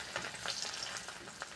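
Chopped garlic fries in mustard oil in a wok with whole cumin and a bay leaf, giving a faint, soft sizzle with light crackles and a few stirring scrapes, heard alone.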